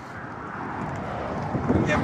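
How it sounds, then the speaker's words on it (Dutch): Strong wind buffets the microphone on the Zeeland Bridge as a low, rough roar that swells slightly toward the end, with voices faintly present. "Je hebt hier best last van de wind"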